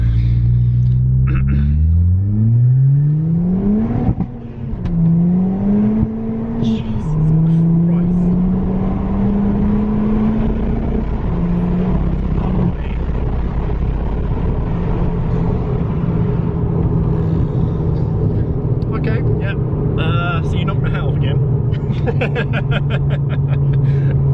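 A Ford Fiesta ST with a VT330R hybrid turbo accelerates hard through the gears from inside the cabin. A loud engine drone climbs in pitch, drops at each shift and climbs again, with a steady rumble underneath.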